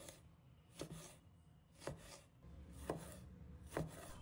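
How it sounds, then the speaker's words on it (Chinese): A knife cuts a tomato into small pieces on a chopping board, making four quiet, evenly spaced thuds against a faint background hiss. "从番茄的侧面切入， 均匀切成小块"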